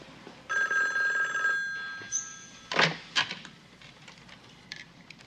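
Telephone ringing in a home: an electronic ring trill lasting about a second, followed by a couple of sharp clicks and knocks like a handset being picked up, moderately loud with no talking.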